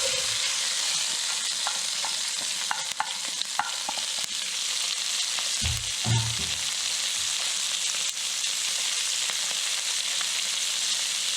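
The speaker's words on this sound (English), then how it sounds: "Now I'm going to add the onion." Chopped onion sizzles steadily in a hot pan during a cooking demo, a loud, continuous frying hiss with a brief burst of scraping and stirring partway through.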